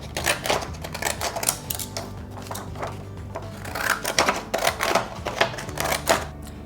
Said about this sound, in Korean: 이번에도 펭귄 가위로 모양을 내서 잘라볼 건데요